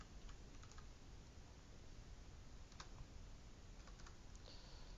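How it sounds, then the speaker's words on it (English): Typing on a computer keyboard while entering a Windows update search in Windows 10, a handful of faint, scattered key clicks over a steady hiss, with no voice. "And you're gonna type in Windows Update."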